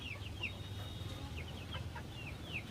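Chickens, a rooster and hens, in a coop give soft, scattered clucks and chirpy calls over a low background hum, faint and somewhat distant with no talking.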